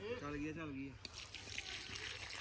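Water from a motor pump pouring out at a farmhouse construction site, a soft trickling, gushing flow starting midway after a man's brief spoken line, fairly faint and steady.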